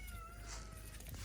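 A cat gives a faint, brief meow at a place full of cats, with low background rumble around it.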